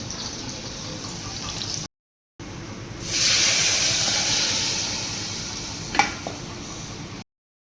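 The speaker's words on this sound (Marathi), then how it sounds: "चला पटकन फोडणी टाकते आता वरणाला" Tadka for dal sizzling in hot oil, with fresh curry leaves, a steady hiss that swells sharply midway and then slowly fades, with a brief crackle near the end.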